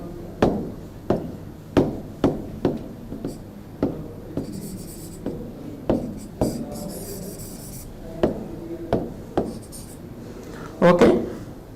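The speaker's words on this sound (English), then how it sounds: "So, I will erase this one." Chalk or a duster scrapes across a classroom board in a series of sharp strokes and taps, spaced out rhythmically and fairly close, with quiet room sound in between.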